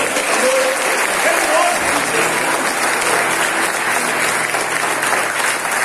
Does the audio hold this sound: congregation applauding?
yes